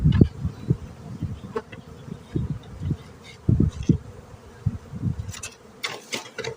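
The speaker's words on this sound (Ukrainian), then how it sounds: "Шість рамок, бачу скрізь є бджоли." Honey bees buzz close by in an open hive with frames, irregular bursts and swells, a busy droning hum with a few sharper passes near the end.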